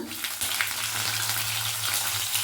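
Onions frying in hot oil for a Mysore-style potato dosa filling, a loud, steady close-up sizzle with a faint low hum beneath and no talking.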